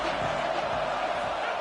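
Steady broad roar of a football stadium crowd, dense and continuous with no breaks, loud and filling the space as fans make noise ahead of a play.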